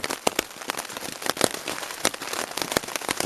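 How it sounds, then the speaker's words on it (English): Steady rain drumming on a tent while camping on a backpacking trip, a dense close patter with sharper drops and heavier spatters scattered throughout, no voices. "It's a nice rainstorm."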